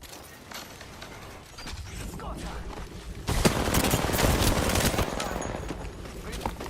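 Apex Legends gunfire from a video game, rapid automatic bursts and weapon mechanism clicks, growing louder and denser midway, with a player talking over the shooting.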